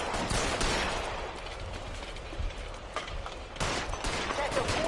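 Gunfire in L.A. Noire, a dense, continuous spread of shots and crackling impacts with sharp bursts near the start, middle and end, set against the game's constant background noise.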